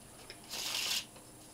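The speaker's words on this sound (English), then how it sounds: "Now, I could also do the normal shuffle as well." A deck of playing cards gets a normal shuffle during a card trick, one brisk riffling burst of about half a second after a small tap, close and quiet with no voices.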